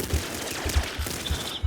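Double shotgun blasts in the Nuclear Throne video game, five punchy low booms in quick regular succession over busy game noise.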